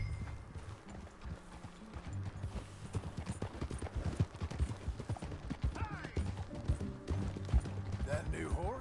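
Horse hooves clip-clopping at a steady riding pace in Red Dead Redemption 2, a regular rhythmic beat under a background music score, with a horse whinnying briefly near the end.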